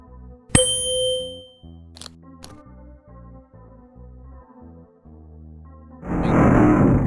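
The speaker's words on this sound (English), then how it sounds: "A musical triangle." A musical triangle in a point-and-click adventure game gives a sharp metallic ding that rings out and decays. Softer clinks follow over quiet game music, and a loud rumbling mechanism starts near the end.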